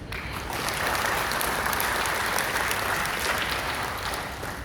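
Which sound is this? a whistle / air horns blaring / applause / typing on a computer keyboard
applause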